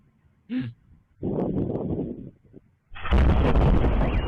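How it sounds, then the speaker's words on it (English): A bomb explodes in a Russian city with a sudden heavy roaring blast that fills the end of the clip, loud and close, after shorter rumbling bursts and a brief voice earlier on. "Moment Russia accidentally bombs its own city"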